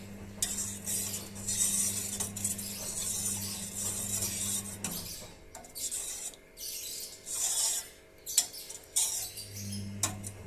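Spoiled milk being stirred in a metal pot while making rasagulla: repeated scraping and clinking of a spoon against the pot in uneven strokes, close by, over a low steady hum.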